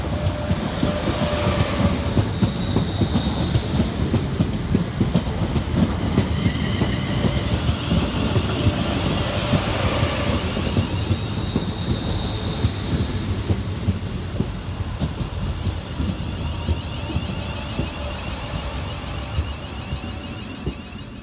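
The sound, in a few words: Class 350 London Northwestern Railway train arriving at Stafford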